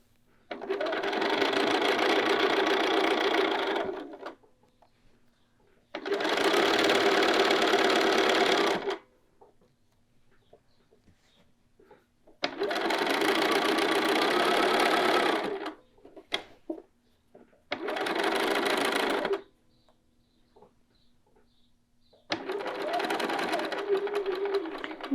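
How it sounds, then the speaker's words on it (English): A sewing machine edge stitches around a garment pocket in five loud, steady runs, each a few seconds long, separated by quiet pauses with small clicks where the fabric is turned. "Now we're going to go over to our machine and we're going to edge stitch around the pocket"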